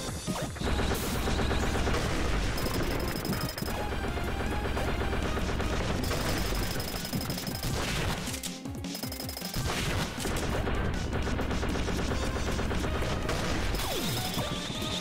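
Gunfire in the 2D action game Iconoclasts bursts as rapid, crashing shots and impacts over loud, continuous game music, with one short lull near the middle.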